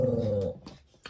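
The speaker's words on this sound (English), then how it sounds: "we've got some dogs barking" Dogs barking indoors, a strong harmonic bark or whine in the first half, then softer, sparser sounds and a sharp short yelp near the end, fairly close and alone.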